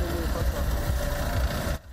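A tractor engine runs steadily at a tractor show in Tatarstan where machine operators demonstrate driving skill, with a loud, continuous low rumble and knock that cuts off sharply near the end.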